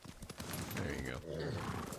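Horse in the video game Ghost of Tsushima giving a short whinny over clip-clopping hooves, a brief close sound mixed with a voice talking.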